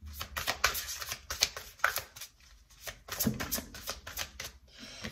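Shuffling of a large, oversized tarot deck, with close, papery riffles and slides coming in quick irregular bursts, fairly soft and with no voices.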